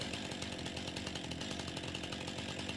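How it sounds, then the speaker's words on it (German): A chainsaw cuts through a tree trunk, its engine droning steadily at high revs for nearly three seconds, loud and close with a fast rhythmic chatter and no speech. "Ach so, na gut, dann sägen wir den hier ab."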